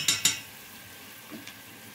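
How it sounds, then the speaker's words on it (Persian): Onions fry quietly in a pan for a Persian celery stew, a soft, even sizzle. Two sharp utensil clinks sound near the start, and a lighter scrape follows later. "خب پیازمون داره کم کم سرخ میشه"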